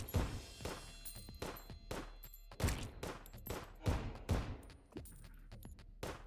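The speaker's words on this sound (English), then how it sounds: "Phoenix Blaster is a little bit loud with exploding bullets" In the video game Terraria, the Phoenix Blaster gun fires exploding bullets as a rapid, irregular string of booming shots and bursts with a faint whine between them, at fairly low volume, with no talking.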